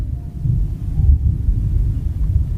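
Low, continuous thunder rumbling before rain, loud and steady throughout with no voices.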